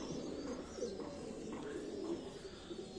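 Gentle throaty cooing from a young Teddy cross pigeon in a loft, continuous and low over a steady background hiss with scattered faint bird sounds.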